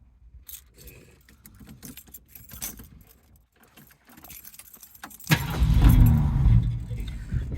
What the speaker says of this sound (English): Got some extra keys too.